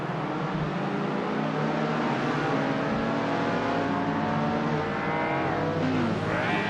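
Race cars in a racing video game, including a 1961 Alfa Romeo Giulietta, with engines droning steadily and rising in pitch as they accelerate, several cars close together and loud.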